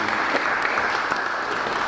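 Crowd at a community gathering applauding as a guest is introduced, a brief dense burst of clapping at a steady level from start to finish.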